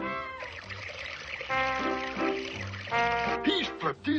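Cartoon water poured into an empty bottle, rising gurgling tones that climb in pitch as it fills, with bouncy music and character sounds mixed in.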